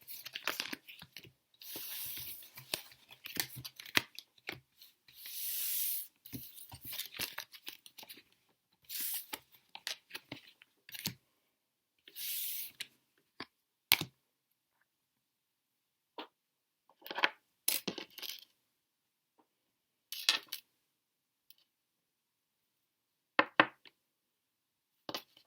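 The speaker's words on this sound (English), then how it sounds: "So let's take away all of these cards." Tarot cards being gathered up and handled, heard as crisp, close shuffling and sliding rustles in short irregular bursts separated by silent gaps, with no talking.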